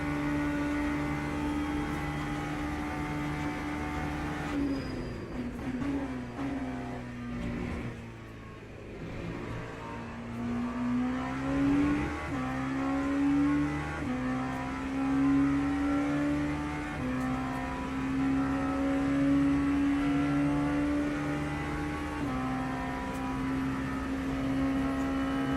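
LMP2 prototype race car engine in the Le Mans Ultimate sim at the Le Mans 24 Hours, a steady loud drone that dips and climbs through gear changes and revs, alone with no talk.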